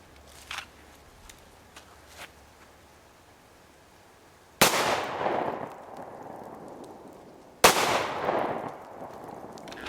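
Two loud, sharp FN Five-seven pistol shots crack a few seconds apart at close range outdoors, fired through a vehicle windshield, each followed by a short decaying echo.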